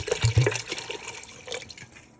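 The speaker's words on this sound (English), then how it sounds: "I'm just going to add some filtered water" Filtered water is poured into a pressure cooker holding lentils and tomatoes, giving close splashing and gurgling that is strongest at first and then tapers off.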